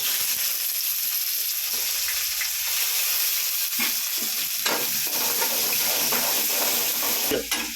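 Crushed garlic cloves and onion hit hot oil in a pan for a beans kootu, giving a loud continuous sizzle and frying hiss with occasional stirring scrapes.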